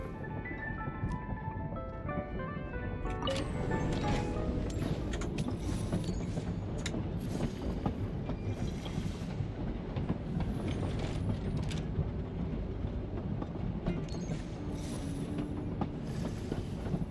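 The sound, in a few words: train arriving and stopping in video game Genshin Impact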